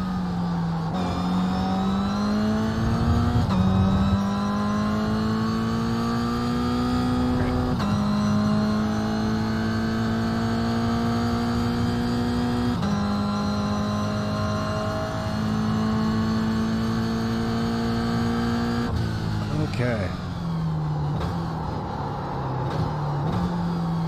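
Toyota GR86 engine in the iRacing simulator at Laguna Seca, a loud continuous drone climbing in pitch through the gears, with short dips at each shift and a final drop as it slows.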